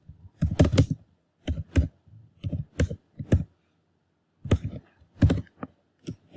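Code is typed on a computer keyboard close by, in clustered bursts of crisp key clicks with short pauses between runs. Nothing else is heard.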